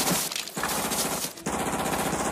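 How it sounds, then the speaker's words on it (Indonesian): Sustained automatic gunfire in a Vietnam War film, a loud, dense rattle of rapid shots with brief gaps, heard in a jungle patrol scene. "Tiba-tiba seorang prajurit yang panik menembakkan senjatanya."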